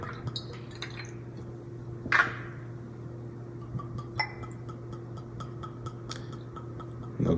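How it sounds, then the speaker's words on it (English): Terralta Extra Añejo tequila poured from the bottle into a glass, a faint trickle with a few small clinks and drips over a steady low hum, close and quiet, no talking. "So I'll pour this glass out real quick."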